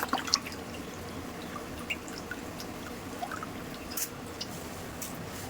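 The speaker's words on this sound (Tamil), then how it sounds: "இந்த ஸ்டேஜ்ல கழுவி வச்சிருக்க கீரை ஆட் பண்ணிக்கலாம்" Washed arai keerai spinach dropped into a pot of boiling salted water, giving soft wet drips, squishes and small splashes over a steady bubbling background, close and fairly quiet with no voices.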